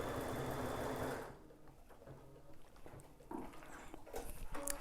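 An embroidery machine stitches the word sew, its rapid needle chatter loud for about a second before it drops away. Quieter mechanical knocks and whirring then build back up toward the end.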